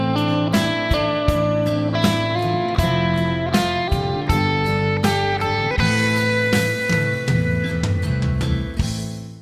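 Guitar solo passage built on an up-three-notes scale pattern with varied rhythm, busy picked lines and ringing notes played continuously and loud up close, no talking.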